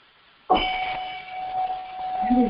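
A single metal bell or bowl-bell is struck once, ringing loud and clear with a long, steady sustaining tone that slowly fades, with faint background noise after the strike.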